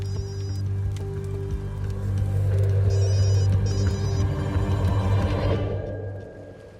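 A telephone rings in repeated electronic bursts over a low steady hum, fairly close, before the ringing cuts off and the room quiets near the end.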